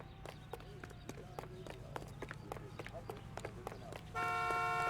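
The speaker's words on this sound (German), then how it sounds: "Hör auf zu hupen" A car horn honks in the video game L.A. Noire during a drive. A sustained horn blast swells in loudly near the end, after a stretch of engine drone, scattered clicks and knocks, with someone talking over the game audio.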